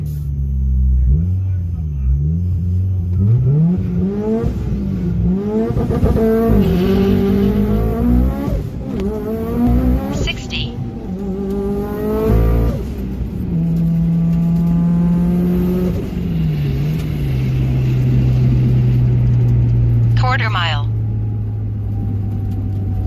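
A Mitsubishi Lancer Evolution IV on street tires makes a test pass, loud engine climbing repeatedly through rising revs with shifts, then droning steadily, with talk throughout.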